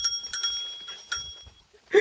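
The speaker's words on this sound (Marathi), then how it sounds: "घंटी वाजवा घंटी वाजवा." A child's bicycle bell rings in a few quick, bright dings spread across two seconds, with a short vocal sound right at the end.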